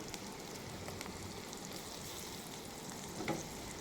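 Crushed bitter gourd seeds fry in a pan with chopped green chillies for bitter gourd cutlets, giving a faint, steady sizzle with one brief louder stir near the end.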